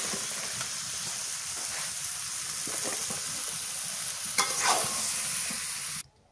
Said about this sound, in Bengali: মশলা কষানো হয়েছে, লাউ দিয়ে দিয়ে দাও।